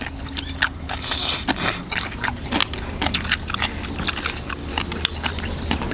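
Close, crisp crunching and biting from someone eating a crunchy raw vegetable salad with cooked shrimp, with steady repeated chews and sharp bites throughout and no talking.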